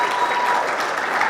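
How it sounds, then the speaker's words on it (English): Audience applause for the Whittier Police Department at the 2024 State of the City event in Whittier, California: steady, dense clapping from a crowd, fairly loud and even throughout this short burst. "Let's give a big round of applause for Whittier Police Department."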